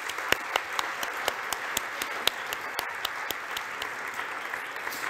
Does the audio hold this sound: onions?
no